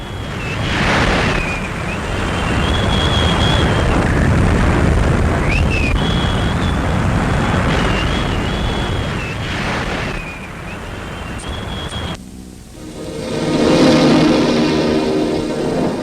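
Heavy wind roars over crashing surf in a continuous, loud rush, swelling and easing, with a thin high whistle drifting through before the wash briefly quiets.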